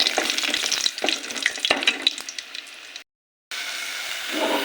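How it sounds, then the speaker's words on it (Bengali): Pumpkin lentil nuggets (kumro bori) frying in hot oil, a close crackling sizzle with a few sharp pops, cut by a brief dropout before the frying resumes. "এই যে এখানে কুমড়ো বড়ি ভেজে নিচ্ছি"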